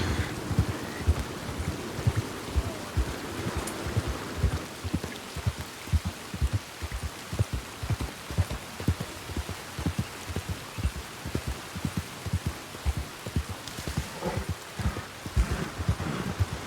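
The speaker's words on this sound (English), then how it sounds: "And we got a full-blown thunderstorm going." Rain from a thunderstorm in the video game Red Dead Redemption 2 hisses softly and steadily, with a regular run of low dull thumps beating underneath throughout.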